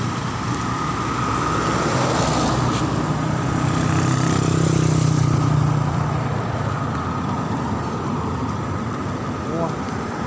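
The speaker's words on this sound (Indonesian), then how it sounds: "Lagi mobil banyak nih sobat." Busy roadside traffic with many cars rushing past, a steady loud broadband roar of engines and tyres that swells in the middle as a heavier vehicle passes close by.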